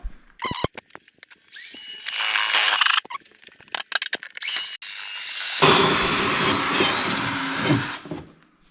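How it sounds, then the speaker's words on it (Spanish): A power drill bores holes to mount a seat on a kart chassis, with short stuttering bursts, a sustained high whine of the bit biting, a pause of brief clicks, then another long loud drilling run close by. "vamos a coger el taladro, vamos a hacer agujeros"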